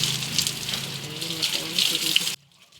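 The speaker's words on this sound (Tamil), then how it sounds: "செடிங்களுக்கு இந்த வெயில் டைமில் தண்ணி விடும்போது செடி மேலெல்லாம் தெளித்த மாதிரி விட்டோம்னா" Water poured or sprayed over potted flowering plants in a sunny rooftop garden, a steady close gushing splash running for over two seconds before cutting off abruptly.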